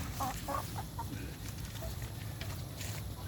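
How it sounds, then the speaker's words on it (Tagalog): Rhode Island chickens cluck softly in the distance amid a steady low rumble of outdoor background noise. "Saka may mga manok pa ako dito mga idol na Rhode Island."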